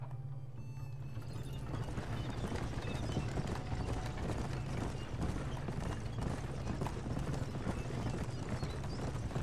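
Horse hooves clip-clop steadily at a running pace in the Western video game Red Dead Redemption, with faint mechanical rattling mixed in. The sound is quiet and continuous throughout, with no one talking.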